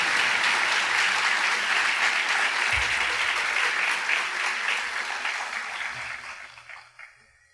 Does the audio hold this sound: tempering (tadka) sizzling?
no